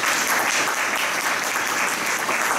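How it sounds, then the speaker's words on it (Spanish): Audience applause at a music and society studies seminar, steady dense clapping from a crowd that fills the whole stretch at an even, fairly loud level with no voices over it. "Un aplauso, por favor, para Pepe."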